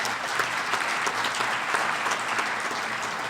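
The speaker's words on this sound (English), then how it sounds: "Give him a round of applause." A crowd applauds a longtime board member at an education event, thick continuous clapping at a steady, fairly loud level from start to finish.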